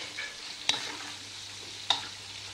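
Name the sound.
onion rings frying in oil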